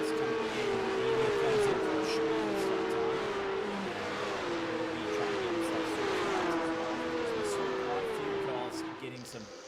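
Porsche Cup race cars with 520-horsepower engines roar around Road Atlanta, several engines droning and shifting pitch together at high revs, a loud continuous racing din throughout.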